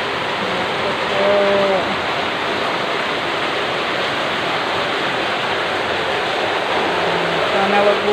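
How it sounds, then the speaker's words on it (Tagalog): Heavy rain pouring down steadily during a flood-prone storm, a dense continuous hiss that fills the whole stretch, with faint brief sounds in the background. "ayan na naman ang lakas ng ulan."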